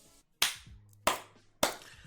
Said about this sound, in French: Allez, on peut applaudir les gars.